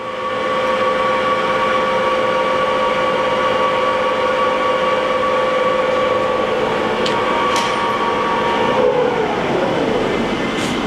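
A 2007 Johnford ST-40G-CF CNC lathe spindle with a 50 horsepower motor spins at about 280 RPM in fourth gear, making a loud steady whine and rumble that begins to wind down near the end, with faint clicks.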